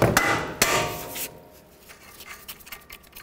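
Hammer blows driving bolts out of a front CV axle assembly on a Chrysler Sebring, two sharp metallic strikes up close followed by quieter scraping and tapping.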